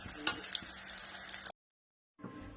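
Green chilies frying in hot oil, a dense close sizzle that cuts out abruptly to silence and then resumes.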